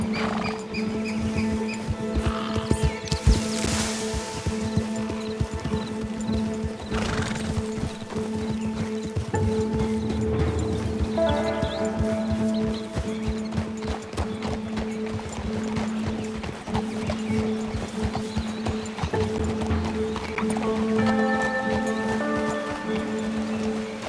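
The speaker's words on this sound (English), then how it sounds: "Can they not hear our horses clomping?" Several horses clip-clop along at a steady walking rhythm in Red Dead Redemption 2, hooves continuous and moderately close beneath game music and occasional voices.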